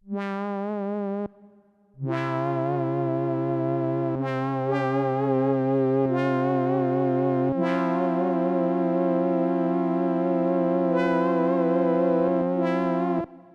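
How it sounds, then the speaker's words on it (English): A synthesizer plays sustained harmonic tones that shift in pitch, with a washy reverb tail smearing each note; loud and steady after a short pause near the start. "let's add a little bit of reverb"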